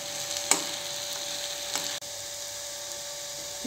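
Jackfruit seeds frying with pepper in a pan give a steady, even sizzle with a couple of sharp clicks and scrapes, and no voices.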